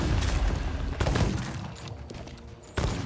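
Double barrel pistol in the Sea of Thieves pirate game, loud close gunshot blasts in quick bursts with a short quieter gap before a final sharp shot.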